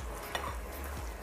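Seasoning being stirred through tofu and mushroom balado in a pan, a soft steady scraping and clinking of a utensil against the pan over a low cooking hiss.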